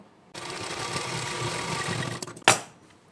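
A sewing machine stitches the seams of a child's ghoti-sleeve blouse in one steady, fast whirring run of about two seconds. It ends with a stutter and a single sharp clack, with no voices.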